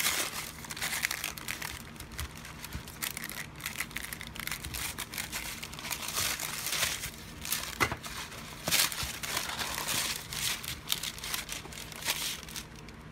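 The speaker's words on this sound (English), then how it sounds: "Cutting a hot glob of plastic in half with a paint scraper is a pain in the ass." A hot glob of reclaimed #2 HDPE plastic is cut in half with a putty knife, giving close, quiet crinkling and scraping crackles in irregular bursts, with no voices.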